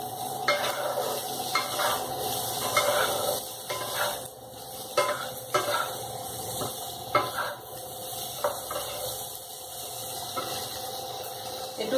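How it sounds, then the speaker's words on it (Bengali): Chicken sautéing in a pan, with a steady soft sizzle and repeated scraping and clinking of a spoon stirring against the pan, close by, with no talking. "জাস্ট এগুলো একটু সতে করে নেব"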